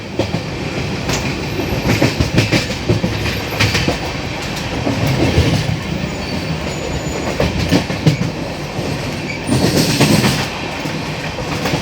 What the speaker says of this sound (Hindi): Overtaking Telangana express.